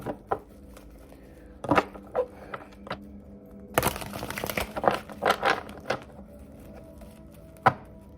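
Tarot cards are handled and pulled, with crisp snaps, slides and riffling shuffles in a quiet room, including a dense burst of shuffling in the middle and isolated taps before and after.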